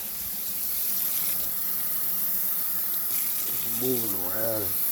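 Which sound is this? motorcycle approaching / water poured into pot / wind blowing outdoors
water poured into pot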